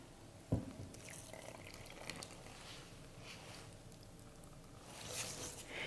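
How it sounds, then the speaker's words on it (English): Liquid ingredients for carrot raisin bread are poured into a well in the dry mix in a home kitchen. A soft thud is followed by quiet trickling and splashing that continues for several seconds, with no talk. "And then I'm going to pour in the liquid ingredients."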